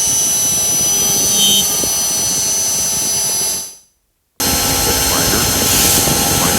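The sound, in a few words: high-speed rotary cutter at 30,000 RPM sharpening a corner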